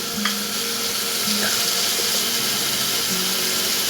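Onions with green chillies and curry leaves frying in a mud pot, giving a loud, steady, close sizzle that runs throughout with faint stirring clinks and no talking.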